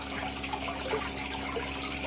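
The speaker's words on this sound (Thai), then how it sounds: "บ่อทำเองก็น้ำตกด้วยนะครับ มีน้ำตกด้วย" A small waterfall runs in a homemade backyard fish pond built from bought stones and bricks, giving a steady, continuous splashing rush of falling water, close and even throughout, with no talking.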